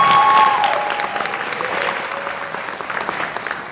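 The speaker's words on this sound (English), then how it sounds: "give her a round of applause" An audience in a historic building gives a round of applause, loud sustained clapping that slowly tapers off over several seconds.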